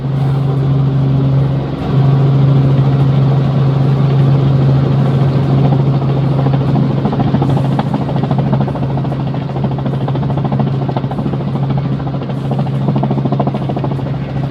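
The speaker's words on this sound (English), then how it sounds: "So I don't know whether I shall ever fly in a helicopter again" Inside a helicopter cabin over Snowdonia, a loud steady engine and rotor drone with a strong low hum fills the whole stretch, unbroken and constant.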